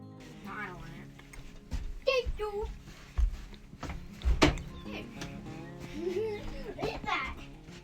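Children play around a camping trailer, their high voices chattering and calling out near and far, broken by a few hollow thumps like a door or a foot hitting something.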